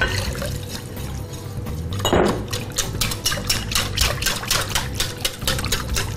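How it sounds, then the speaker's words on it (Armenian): Water is added to a slightly stiff dough, giving a close liquid pour that swells into a brief splash, followed by steady rhythmic squelching and slapping as the dough is worked. "Եվ քանի որ խմորը մի փոքր պինդ է, կարել է ավելացնել ջուր։"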